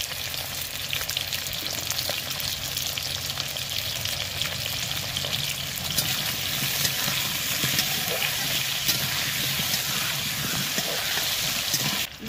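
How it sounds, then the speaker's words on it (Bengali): Potatoes with a little turmeric fry in a pan for rohu fish biryani, giving a constant loud sizzle and crackle of hot oil that runs unbroken throughout. "বিরিয়ানির আলুটা ভাজা হোক"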